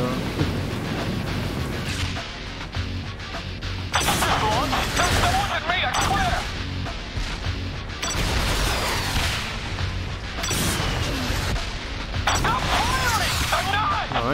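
Sustained gunfire and explosive booms from a shootout in the video game Saints Row The Third Remastered, loud and continuous with bursts of crashing impacts, while voices shout over the mayhem.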